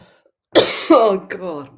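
A short burst of harsh coughing breaks out after a brief silence, followed by a strained voice speaking briefly.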